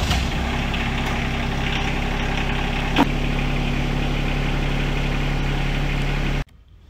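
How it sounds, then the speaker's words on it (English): A small tractor engine idles steadily and close by while backing up to a three-point hitch implement, a constant low rumble with one faint clunk midway before it cuts off abruptly near the end. "So I'm gonna hop on the tractor, we're gonna back it up, get as close as we can"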